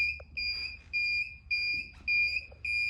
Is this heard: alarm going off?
yes